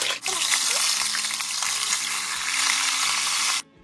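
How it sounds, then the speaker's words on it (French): Fish frying in hot oil in a pan, a steady close sizzle and crackle lasting several seconds before cutting off abruptly near the end. "Là, mon poisson que je suis en train de faire frire"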